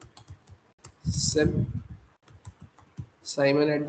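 Keystrokes on a computer keyboard while entering names and email details into a MongoDB and Express web app: quick, uneven clicks close to the mic, with a voice cutting in between bursts of typing.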